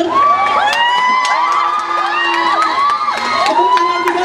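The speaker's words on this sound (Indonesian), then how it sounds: "Tangan dong buat Aliando dan Guntur." An audience at an Indonesian film press conference cheers and whoops loudly, with many rising shouts and high excited voices over continuous crowd noise, and no speech.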